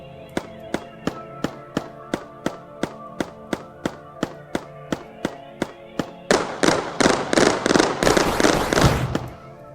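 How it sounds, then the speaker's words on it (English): Enemy fire weapon in the Mindustry video game: a rapid, evenly spaced series of sharp crackling pops, then a dense burst of louder, noisier blasts toward the end. "he's shooting fire, it seemed like"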